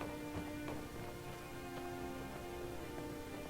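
Creaky bones of a skeleton in the video game Skyrim, heard as a run of light ticking and clattering over a steady, tonal game ambience, with no talking.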